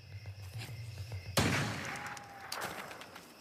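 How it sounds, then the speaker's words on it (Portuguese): A single sharp carbine shot, fired as an adjustment shot in a film scene, cracks out loud mid-clip and then trails into a lingering outdoor echo over faint background sound. "É tiro de ajuste."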